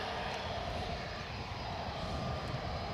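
An Aer Lingus airliner comes in very close to land at Edinburgh, its engines a continuous, fairly faint rumbling roar with no talking.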